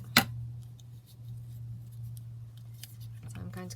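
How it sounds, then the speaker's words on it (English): A single sharp snip of scissors cutting a butterfly image out of book paper for a craft journal, one brief close cut over a low steady hum, with soft speech nearby. "So I'm going to cut that like that."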